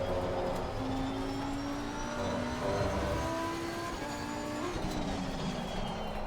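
Lamborghini Huracan GT3 Evo 2 race car at Spa-Francorchamps in Assetto Corsa Competizione: a continuous engine roar with rising and falling revs through gear changes, steady and fairly loud, with no talking.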